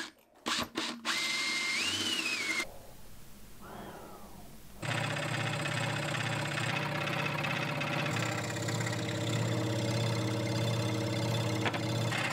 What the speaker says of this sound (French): Je finis de percer de l'autre côté pour éviter qu'il y ait de l'arrachement.